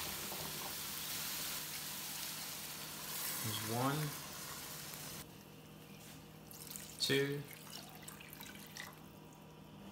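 Two cups of water poured from a 2-cup measuring cup into a soup pot for crappie soup: a steady watery rush and splash that runs under a man's brief counting.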